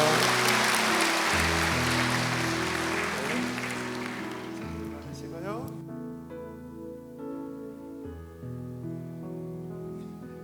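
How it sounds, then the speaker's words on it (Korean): A church congregation at a Sunday worship service claps together in dense applause that fades out after several seconds, leaving soft organ-like sustained tones underneath. "박수하겠습니다"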